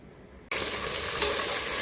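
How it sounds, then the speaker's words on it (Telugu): Whole cloves and cardamom hit hot oil in a pressure cooker, and after a quiet moment a loud, dense sizzle bursts in and holds steady. "లవంగాలు, యాలకులు మొత్తం మసాలా దినుసులన్నీ ఈ ఆయిల్లో వేసేద్దాం. వేసి దూరగా వేగనిద్దాం."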